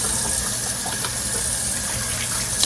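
Water poured into the bottom of a roasting pan while making turkey wings with gravy, a steady continuous splashing gush lasting throughout, fairly loud and close, with no talking.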